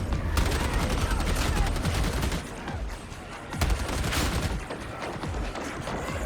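Ogryn Leadbelcher gun in Warhammer 40,000: Darktide firing long rapid bursts, dense heavy automatic fire with booming low end, a short lull midway, then renewed firing, loud and close.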